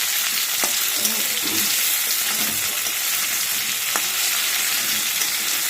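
Steady oily sizzling of crab frying with spices in a pan, with occasional stirring scrapes, close and continuous with no talking.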